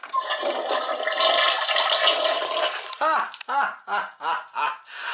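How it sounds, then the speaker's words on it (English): A Barbie Dreamhouse toy toilet plays an electronic flush effect, a loud rushing water whoosh lasting about three seconds, followed by a run of bright, rhythmic recorded giggles. "I pretty much guarantee when I push that button, it's going to flush."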